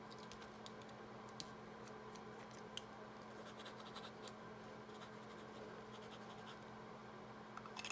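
Fine-nib fountain pen scratching across paper, a steady, faint, dry rasp with small clicking strokes running continuously, close and quiet with no talk.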